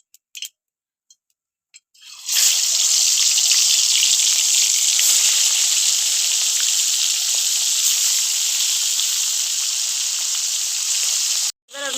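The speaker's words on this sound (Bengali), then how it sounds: "এবার আমি মাছগুলো প্রথমে ভেজে নেবো" Hilsa fish pieces frying in hot mustard oil in a wok, giving a loud, steady sizzling hiss that starts abruptly after a few faint knocks and runs on continuously with a brief break near the end.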